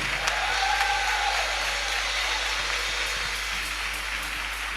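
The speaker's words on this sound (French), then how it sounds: "Ton applaudissement est petit." Congregation applauding at a church spiritual retreat service, a steady dense wash of clapping that holds at an even level throughout, with a faint sustained tone drifting through the first part.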